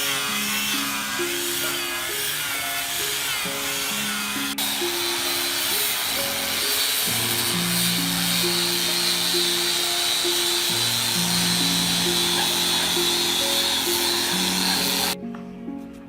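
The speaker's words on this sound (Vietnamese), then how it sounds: "Đây họ đang chà nhám sơn đấy." A power sander works over painted wooden posts for a Jrai stilt house. It makes a continuous buzzing whir with shifting pitch and a brief change in tone partway, then cuts off sharply near the end.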